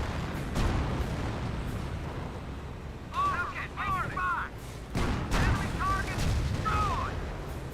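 Gunfire and artillery in Company of Heroes 1, with booming impacts and crackling shots over a rumbling battle bed, plus bursts of high whining or shouting unit sounds midway.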